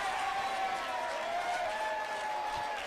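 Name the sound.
home crowd reacting to free kick award at football match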